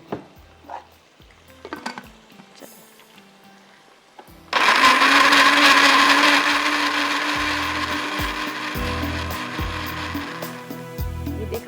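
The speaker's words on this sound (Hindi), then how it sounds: "कितना शार्प इसका ब्लेड है, ऐसे सेकंडों में ये जो है ना पीस देता है" A blender starts up abruptly after a few quiet kitchen clatters and runs loudly and steadily, its motor whirring as the blades grind ingredients with a little water, easing slightly toward the end.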